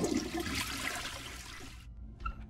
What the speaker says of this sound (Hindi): ये क्या, इसको फ्लश कर दूंगा तो क्या होगा?